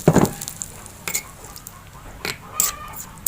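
Cooking oil sizzles in a pan while Bugis banana fritters are prepared, heard as a low background hiss broken by a few sharp crackles and bursts.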